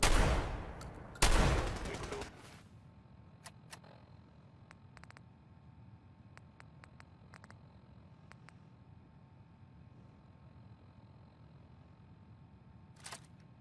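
Rifle fire in Fallout 4 at Bunker Hill: two loud, sharp shot bursts ring out in the first couple of seconds, then a quiet stretch broken by sparse faint clicks and ticks.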